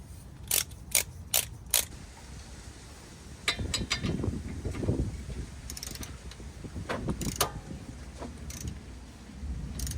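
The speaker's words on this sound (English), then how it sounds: "I'm gonna torque this one to 37." A torque wrench ratchets in short bursts while tightening a bolt on a TeraFlex steering stabilizer on a Jeep JK, close and clear, with quick clicks near the start and more clicking later over low workshop noise and handling.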